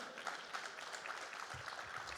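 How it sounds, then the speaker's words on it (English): An audience at a business talk about taking a company public claps in a quiet, steady round of applause, heard from a distance with soft, even texture throughout. "Huge round of applause one more time."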